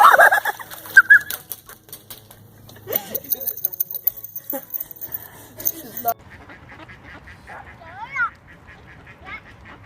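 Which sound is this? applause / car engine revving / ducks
ducks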